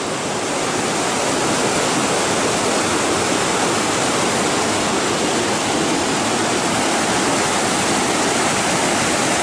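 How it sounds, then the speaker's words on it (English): A river rushes past a riverside trail in Michigan in August, a loud, steady broadband roar with no break and no voices. "Another beautiful scenic spot along this river."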